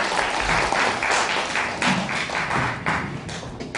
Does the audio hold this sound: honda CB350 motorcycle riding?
no